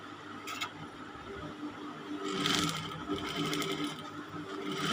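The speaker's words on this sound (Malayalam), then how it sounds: "ഇനി നമുക്ക് പുറങ്ങാണി അടിച്ചു കൊടുക്കാം." A sewing machine topstitches along a jilbaab sleeve, its needle motor whirring steadily and close up, growing a little louder and busier midway and holding a continuous run to the end.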